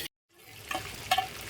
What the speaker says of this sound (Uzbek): Qovurilish jarayoni.